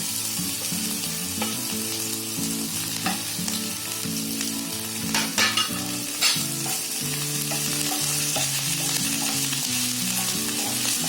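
Ginger sizzling in hot oil with curry leaves, onion and chili, a steady close frying hiss broken by occasional scraping stirs in the pan.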